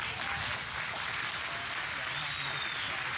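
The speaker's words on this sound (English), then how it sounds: "So please give them a round of applause." Steady, dense applause from a live audience at an event introduction, filling the whole stretch at an even level with no talk over it.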